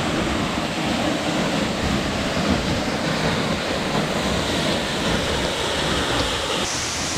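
Waterfall pouring over basalt column formations in the Cantal volcanic region of France, a steady, loud, broadband rushing roar that stays constant throughout with no voices.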